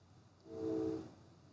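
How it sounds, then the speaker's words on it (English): A single train whistle near the Muna Viaduct sounds once, swelling up mid-clip and fading over about half a second, distant and fairly soft above a quiet background. "that was like the train whistle by Muna Viaduct"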